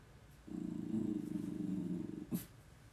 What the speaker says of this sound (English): My dog's growling in the background.